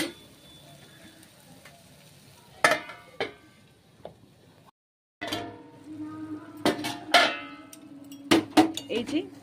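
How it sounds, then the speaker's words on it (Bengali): Lentils, banana flower and prawns are stirred in a cooking pot, with a soft sizzle under scattered knocks and scrapes of the spoon against metal and a brief pause in the middle. "এই যে আমি এবার নেড়ে নিচ্ছি এটাকে ভালোভাবে"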